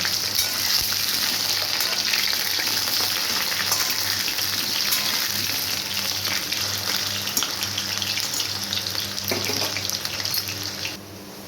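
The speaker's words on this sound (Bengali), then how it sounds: "আলুগুলোকে আমি লাল লাল করে ভেজে নেবো" Potatoes fry in mustard oil in a wok with a loud, close, unbroken sizzle and faint stirring scrapes. No voices are heard, and the sizzle drops off slightly at the end.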